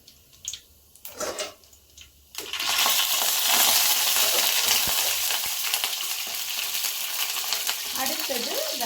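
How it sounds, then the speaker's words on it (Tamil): Chana dal hits hot oil for masala paniyaram, starting with a few light rattles and taps, then breaking into a loud, steady, crackling sizzle that holds close up to the end. "இப்போ எண்ணெய் காஞ்சதும் கடலப்பருப்பு போட்டுக்கலாம்."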